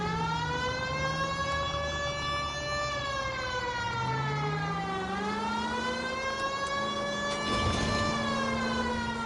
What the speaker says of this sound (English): Don't y'all hear my sirens?